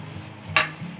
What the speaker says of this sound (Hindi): सब चीज़ों को अच्छे से मिक्स कर लेंगे हम।